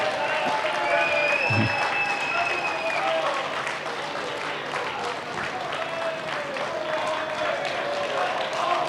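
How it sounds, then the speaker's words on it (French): A conference audience applauds steadily throughout, a dense sustained wash of clapping from a crowd in a hall, with some voices mixed in. "Faites un tonnerre d'applaudissements, s'il vous plaît, pour Monsieur André Monnier."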